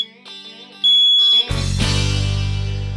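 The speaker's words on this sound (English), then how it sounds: "finally setting off the alarm on the 2nd floor landing" A residential smoke alarm on a second-floor stairwell landing suddenly starts sounding, a loud, steady, piercing electronic tone that cuts in abruptly after quieter tonal sounds and continues alone.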